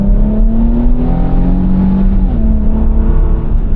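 A 2025 Infiniti QX80 luxury three-row SUV accelerates hard from inside the cabin, its engine note loud and steady with a gradually rising drone and no talking.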